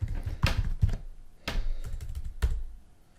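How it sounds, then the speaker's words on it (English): Computer keyboard typing in a few close bursts of quick clicky keystrokes separated by short pauses. "we actually can type some stuff in and send an email to"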